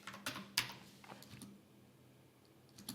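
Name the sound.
typing on a computer keyboard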